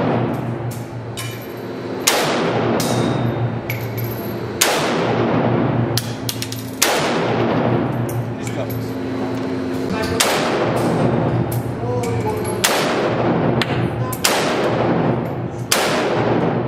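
Bursts of full-auto gunfire at a shooting range in Poland crack out repeatedly, sharp loud reports spaced a couple of seconds apart with rapid follow-up shots and brief ringing echoes between.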